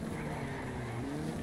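A racing car engine in Colin McRae: Dirt 2 hums steadily at a moderate, even pitch for a moment, a continuous drone with no clear pass-by.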